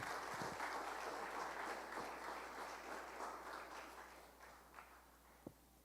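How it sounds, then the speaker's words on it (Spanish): A church congregation applauds during a Spanish-language service. The clapping is quiet and distant and fades out gradually, leaving a few scattered last claps. "Dale un fuerte aplauso a Dios"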